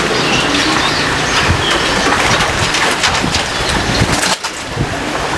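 Racing pigeons coo softly at a pigeon breeder's loft amid a dense, noisy background of rustling and fluttering, the calls blending into a continuous murmur.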